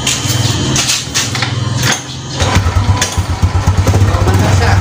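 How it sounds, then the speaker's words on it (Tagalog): A motorcycle engine is started and then runs during a repair involving its rectifier, a loud, close, rough mechanical running sound with a rattling rhythm that briefly dips before settling into a steady, throbbing idle. "So, start natin yung motor."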